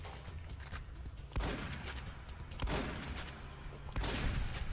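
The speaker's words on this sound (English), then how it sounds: "That is a really nice shotgun." Pump-action shotgun blasts in the video game Fallout: New Vegas, with a few loud booming shots spaced seconds apart over a steady background of game noise, no talk.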